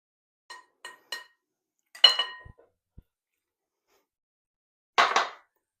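A small metal spoon clinking against a bowl while yeast mixture is stirred: a few light taps, a louder scrape and rattle, then one final clink after a pause, close and isolated with no speech.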